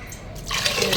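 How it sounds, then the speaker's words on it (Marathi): Water splashes and pours into a container, starting quietly and growing into a steady, close rushing stream over about a second. "पाणी"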